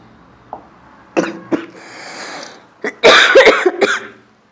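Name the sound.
coughing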